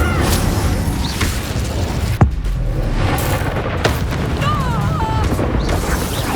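A Confringo explosion spell in Hogwarts Legacy lands as a sharp boom amid constant loud combat noise, with other impacts and whooshing effects around it.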